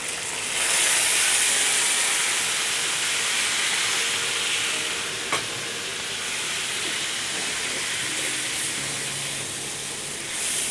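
Yogurt sizzling as it hits browned chicken in an Afghani chicken karahi, a continuous loud hiss and crackle with a spoon stirring, one sharp click midway, no talking.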